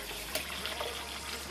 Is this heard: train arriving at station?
no